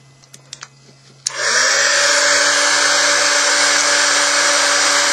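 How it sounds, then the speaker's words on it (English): A heat gun switches on after a few faint clicks and then blows a loud, steady whooshing roar with a fan whine while melting candle wax, continuous and close. "Now to do this, I'm going to take my heat gun"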